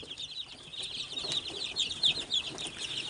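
Fifty-day-old Mardi kampung broiler chickens cluck and chirp together in a pen, a steady, faint flock chatter of overlapping high calls.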